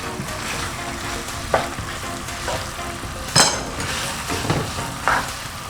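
Cooked, drained pasta and tinned sweet corn are stirred around a hot pan with a utensil, giving a steady low sizzle and a few clinking scrapes against the metal, close and with no talking.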